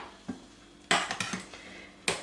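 A spoon clinks and scrapes against a bowl while mascarpone cream is stirred together with wafers for a no-bake cake: a few sharp, close knocks and scraping strokes in a quiet kitchen, with no talking.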